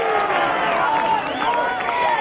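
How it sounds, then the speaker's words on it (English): Rugby league crowd cheering for the Blues at a Maher Cup first grade match against Tumut, a steady wash of voices rising and falling with a commentator talking over it. "Blues crowd getting into it here."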